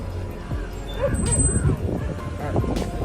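A street dog barks and yips at a lioness in a wild area, with sharp repeated barks heard under a narrating voice.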